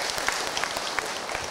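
A seated audience of women at a religious talk show claps for the preacher Ustadz Encep, a brief burst of close, dense applause with no voices over it.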